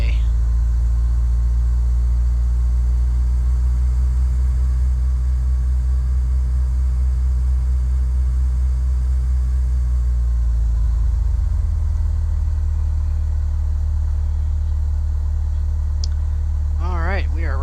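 A simulated Cessna 172 engine in Microsoft Flight Simulator X idles steadily with a deep, continuous low rumble, then drops to a quieter, lower hum partway through, with faint chirps near the end.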